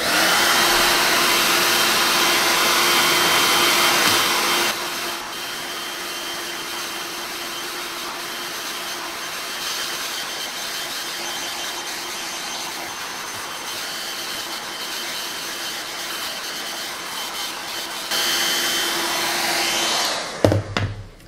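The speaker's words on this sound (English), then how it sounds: "I'll just take my blow dryer on medium heat and I will start." A hair dryer on medium heat blows continuously with a steady whirring roar while straightening relaxed hair, its pitch and loudness shifting as it's moved, then switched off at the end.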